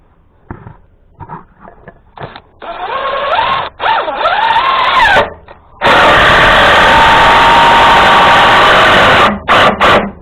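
A power drill drives screws into a wooden feed trough: short bursts of whining motor that rise in pitch, followed by one long loud sustained run and a few quick final pulses.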